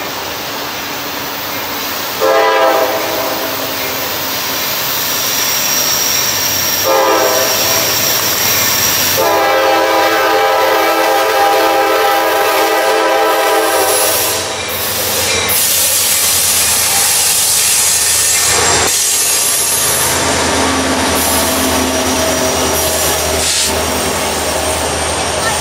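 A long Norfolk Southern intermodal freight train led by an AC44C6M locomotive rumbles and clatters past at close range in Mableton, Georgia, with a continuous roar, hissing, and a brief horn blast near the start.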